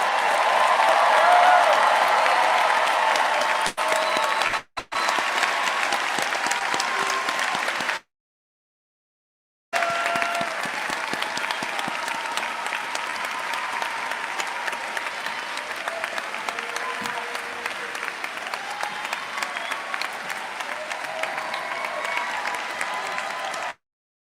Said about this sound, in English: let's give this class of doctors a round of collective applause